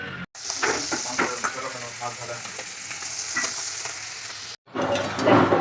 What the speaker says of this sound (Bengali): কচুটা লাল করে ভেজে নিলাম